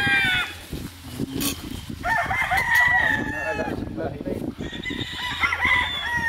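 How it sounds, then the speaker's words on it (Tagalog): Roosters crow twice over a busy background of clucking chickens, loud and close, with some voices mixed in. "Ganda ng manok nila, oh."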